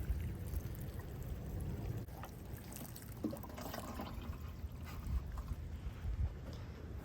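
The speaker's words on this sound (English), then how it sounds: "Final step, just gonna water it." Water poured from a can or hose onto newly planted verbena and petunias in a garden bed, a steady, soft splashing and trickling that runs continuously with no talking.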